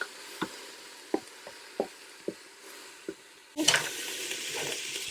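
Braising steak in a pan: a few soft, evenly spaced knocks and taps, then a sudden loud burst of close sizzling that keeps hissing to the end.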